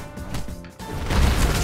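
Bakugo's ground slam in Heroes Battlegrounds: a few dull thuds, then a heavy crashing impact swelling into a dense, loud rumble.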